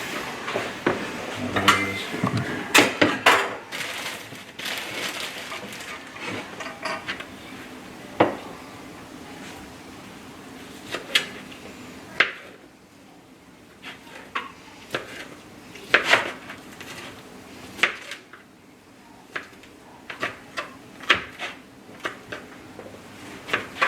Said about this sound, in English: we chunk up this venison roast